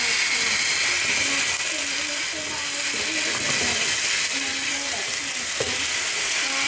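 Sliced bell pepper sautéing in a hot pan gives off a loud, steady sizzle and hiss, broken by occasional scraping and stirring clatter, with faint speech audible underneath.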